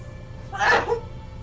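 A single sharp sneeze bursts out near the mic over a low background hum, brief and alone, with no talk around it.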